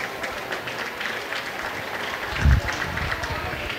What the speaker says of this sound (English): Nice round of applause there by the Spencer faithful who made the trip